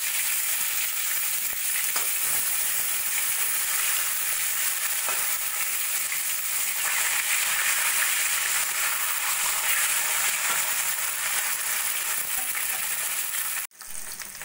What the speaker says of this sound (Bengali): এইভাবে মাছের একটা পিঠ আমার ভাজা হয়ে গেছে, উল্টে আর একটা পিঠ আমি ভেজে নেব।